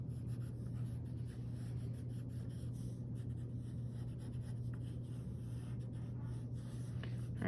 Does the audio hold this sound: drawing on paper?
yes